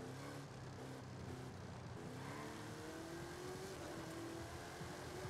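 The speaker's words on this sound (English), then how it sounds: "I thought I heard a supercharger whine. When I gas it out of this turn," A 1,500-horsepower 1973 Pontiac Trans Am in Forza Horizon 5 accelerates out of a turn, its engine droning steadily with rising harmonic tones and a thin whine riding above the roar, continuous and loud.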